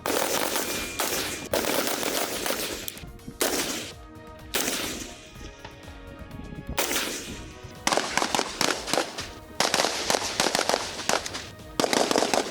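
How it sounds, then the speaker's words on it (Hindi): Bursts of gunfire from SSG commandos practising at a firing range: sharp, loud volleys and rapid repeated shots in clusters separated by brief pauses, with no speech. "SSG के कमांडोज जो इस वक्त फायरिंग रेंज में प्रैक्टिस का मुजाहरा कर रहे हैं"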